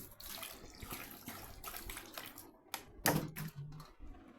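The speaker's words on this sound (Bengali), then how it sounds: "এই যে এরকম করে ফ্লোরে পানি দিই ফ্লোর যেন ঠান্ডা থাকে" Water splashed by hand onto a hot tiled floor to cool it during a heatwave, a few uneven wet splashes and pours with close dripping spatter, louder bursts near the end.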